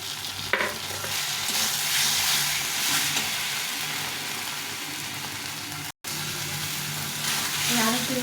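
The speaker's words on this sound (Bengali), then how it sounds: "মশলাটা একটু ভাজা ভাজা হয়ে গেছে, দিয়ে দেবো পেঁয়াজ আর একটু রসুন আদা থেতো করে নিয়েছি" Spices sizzle and fry in oil with onion, garlic and ginger for a soybean curry, a steady close hiss with occasional stirring, while a voice talks over it.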